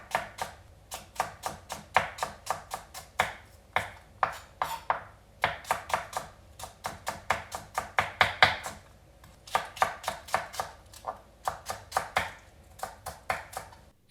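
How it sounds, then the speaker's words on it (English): A knife slices green onions lengthwise into thin strands on a cutting board, making quick, crisp, evenly spaced taps in steady bursts of rapid strokes with brief pauses between runs, close and clear with no talking. "Now I take this and slice it the long way"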